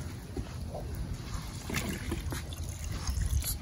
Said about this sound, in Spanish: Déjale, le echo agua.